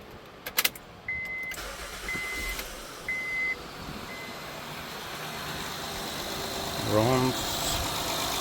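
A 2012 Honda Pilot engine cranks and catches after timing belt and water pump work, then settles into a steady low idle, with several short electronic chimes near the start and a brief voice partway through.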